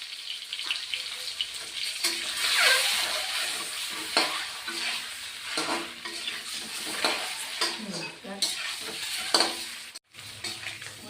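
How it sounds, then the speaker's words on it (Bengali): Eggs fry with turmeric in a pan over low heat, a steady sizzle broken by repeated scraping stirs and a few clinks of utensils, with no talk. "আমার ডিম ভাজা হয়ে গেছে"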